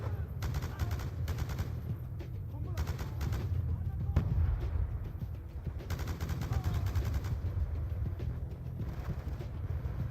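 Gunfire in the Black Ops 2 game, Achilles' Veil mission: repeated bursts of rapid shots amid a dense, continuous battle din, moderately loud and unbroken.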